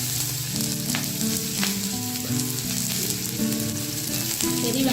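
Finely chopped large onions fry in a little oil in a kadai with a loud, steady, close sizzle. An irregular stirring scrape runs under it throughout.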